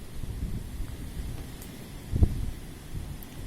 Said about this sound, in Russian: Сильный ветер до 26 метров в секунду.